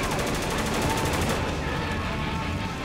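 Rapid bursts of automatic gunfire crackle loudly in the Spec Ops: The Line video game, a dense fusillade that fades into lighter shots partway through.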